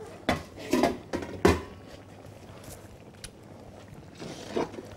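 Metal cookware clatters as a large pasta pot is handled, with a few sharp clanks and knocks in the first two seconds, then fainter scrapes and a soft clink near the end, close and alone.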